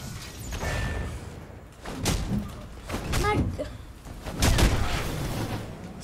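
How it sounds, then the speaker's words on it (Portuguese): Laser blasts fired at the player in the Marvel's Avengers video game on PS5, a run of whooshing zaps and heavy thuds, loud and close, with a voice talking over parts of it. "Quem é que tá disparando esse laser em mim?"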